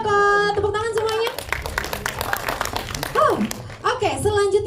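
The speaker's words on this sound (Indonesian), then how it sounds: "Tepuk tangan semuanya." Audience applause at a film press conference for Keluarga Ketok Magic: a dense burst of clapping that swells and fades in the room, mixed with a host talking and overlapping voices throughout.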